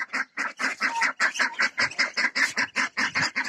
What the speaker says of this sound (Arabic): البط الكبير والوز